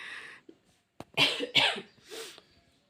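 Several sharp coughs in quick succession, close and fairly loud, preceded by a brief breathy sound.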